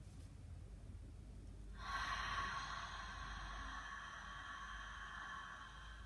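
Ujjayi breath inhale drawn through a constricted throat, a steady breathy hiss that starts abruptly and holds for several seconds, close and fairly loud over low background rumble.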